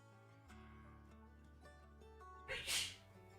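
A single sudden sneeze bursts out near the end, loud against a quiet background of steady low hum and faint tones.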